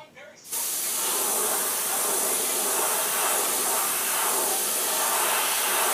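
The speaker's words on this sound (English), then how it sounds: "I'm just lightly coating this thing with this sepia." An airbrush sprays sepia paint onto a trout-pattern jerkbait lure in a steady, close, continuous hiss that starts abruptly after a brief pause and holds unbroken to the end.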